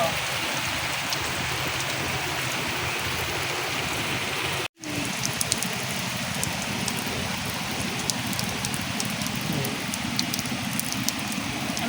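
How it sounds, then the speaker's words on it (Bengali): Steady rain pours down in a dense, continuous hiss, with drops pattering on a surface as a water pot collects it in a village; a brief cut in the sound occurs midway. "বৃষ্টি আইছে কলসিটা বইরা রাখি"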